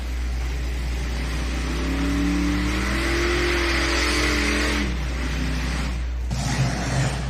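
A modified pulling tractor's engine roars hard and steady during a pull at the National Tractor Pulling Championships, heard from a distance across the arena. The note eases back near the end as the throttle drops.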